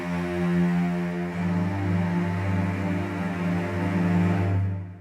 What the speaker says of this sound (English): You'll hear the cello sounds like this.